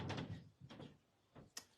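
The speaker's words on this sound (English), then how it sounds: "Can you hear those creaks?" Faint creaking sounds come in a few separate, quiet bursts with short gaps between them, with nothing else clearly audible.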